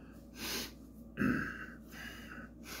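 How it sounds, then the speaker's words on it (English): A person blows their nose in a few short, breathy bursts, close by, with quiet pauses between them and no talking. "Had to blow my nose."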